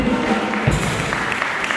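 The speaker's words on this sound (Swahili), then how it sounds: "Tunaweza ku appreciate timu yetu ya kusifu na kuabudu kwa makofi wanaporudi." A church congregation at a Sunday service applauds the praise and worship team with a dense, steady wash of clapping that stays even throughout.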